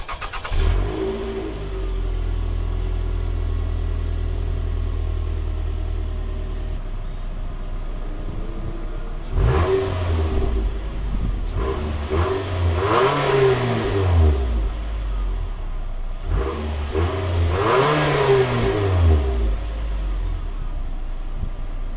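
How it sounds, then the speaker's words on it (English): A fourth-generation Nissan Altima 2.5 S idles steadily, then its engine is revved three times in separate swelling blips that climb and fall back to idle, loud and close with no talking. "Now let's hear how does this engine sounds like."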